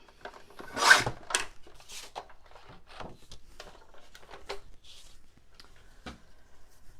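Paper being trimmed a quarter inch on a cutter while making mini notepad folios, a sharp rasping slice near the start followed by quieter scraping and handling sounds, close and alone.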